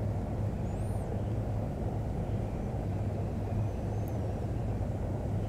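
A Platinum Airways Boeing 737 carrying aircraft parts lands on runway 16L at Salt Lake City in chilly, snowy weather, with a steady, loud engine roar that holds evenly throughout, with no talk.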